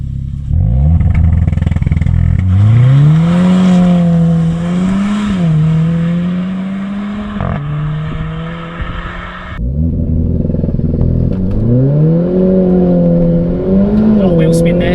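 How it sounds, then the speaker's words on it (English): A Renault Clio RS pulls away on launch control with wheel spin, its engine revving hard and loud and rising through gears, then dropping briefly at a shift before surging again. "A lot of wheel spin there."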